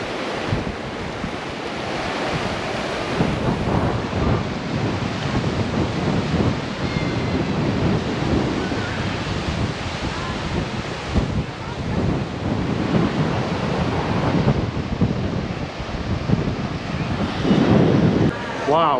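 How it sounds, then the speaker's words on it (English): Ocean surf rolls steadily onto the beach at Sitges, Spain, a continuous loud wash of breaking waves with wind buffeting the microphone throughout. "What a day on the beach."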